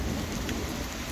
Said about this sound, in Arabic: بس صوت الرعد مخيف يا اخي